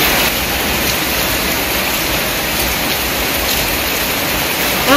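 Rain falls as a loud, steady, unbroken hiss that stays constant from start to finish, with no speech over it.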